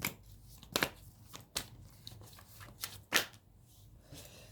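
Oracle cards shuffled for a tarot reading: soft papery riffles and slaps in a few separate bursts, close and quiet, no talking.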